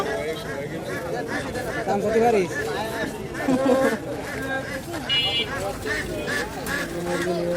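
Ducks quack and honk in bursts at a busy rural poultry market, mixed into constant chatter of traders and buyers bargaining nearby.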